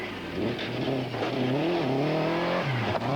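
A 1994 Toyota rally car driving on snow at a Norwegian winter rally, its engine revving hard and steadily close by, pitch climbing and dipping with gear shifts.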